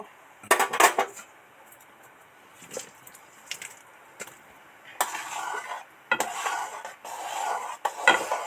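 Fried potato stirred into sago khichuri in a cooking pot: a spoon scrapes and clinks against the metal in short bursts, with soft sizzling and wet squishing between strokes, close and fairly quiet.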